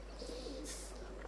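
Pigeons give a faint, brief cooing call over a low steady hum, close by but quiet.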